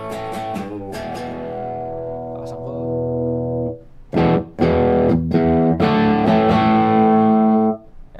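Electric guitar through a JOYO King of Kings overdrive pedal on channel A with every knob at noon: crunchy distorted strums, a held chord, then choppy palm-muted riffing, loud and close with no talking.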